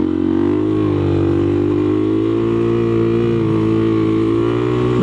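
A motorcycle engine held at high revs during a wheelie, a loud continuous droning tone that stays nearly steady for several seconds and ends abruptly.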